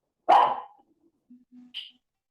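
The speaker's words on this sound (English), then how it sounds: "Sorry, my dog is barking." A dog gives one sharp bark followed by a few softer whimpers and a short yip, close by in an otherwise quiet room.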